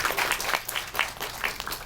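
Audience applause at a live film talk event, a brief burst of moderately loud clapping with a loose, pulsing rhythm, heard on its own.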